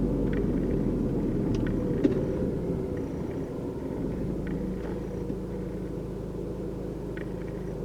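Approaching cars roll past on a road, a steady low rumble of engines and tires that swells and holds close without a break, with no voices over it.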